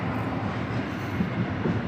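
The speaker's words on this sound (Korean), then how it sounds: "지하철 들어오는 거 보이죠?" A subway train pulls into Namyeong station in Seoul, giving a steady, loud rumble of wheels and cars rolling along the rails, heard from a building right behind the station with no one talking.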